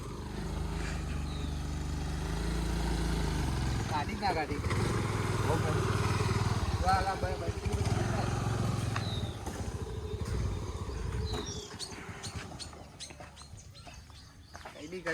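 A Honda Activa motor scooter engine runs steadily and fairly close, then fades, with people talking over it and a few sharp clicks near the end.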